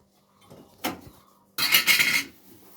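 Metal pots and dishes clatter in a kitchen sink as they are washed: a sharp single clank, then a louder burst of scraping and rattling about half a second long, close and alone.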